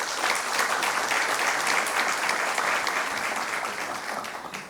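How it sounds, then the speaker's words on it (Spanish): Sustained applause from a lecture-hall audience at a master lecture event, dense steady clapping filling the space for several seconds and beginning to thin out toward the end. "Fuerte el aplauso."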